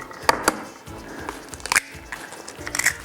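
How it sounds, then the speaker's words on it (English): Eggs cracked one after another into a slow cooker for a chocolate lava cake, heard as a few sharp close taps and cracks spaced apart, with soft handling noises in between. "I'm going to add 3 eggs into the slow cooker."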